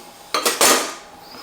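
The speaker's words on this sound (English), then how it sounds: "I'll grab a butter knife and I'll show you what I mean." Butter knife picked up from among metal kitchen utensils, with a quick close clatter of a few clinking strikes that rings out briefly, no voices.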